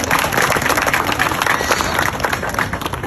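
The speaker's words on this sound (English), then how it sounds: "So I want to give y'all a round of applause for everybody for one time." Audience applause fills a room at a school district keynote speech, a dense, steady wash of clapping that stays loud throughout and eases off slightly at the end.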